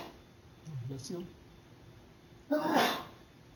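A single short sneeze breaks through in a quiet lecture room, close and fairly loud, after a faint earlier sound, with no talk over it.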